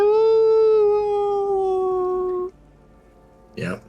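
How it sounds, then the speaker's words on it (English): A summoned wolf in a tabletop-style fantasy video game howls one long sustained, slowly falling tone for over two seconds, loud and clear, then a short rough burst follows after a pause. "I wanted him to howl."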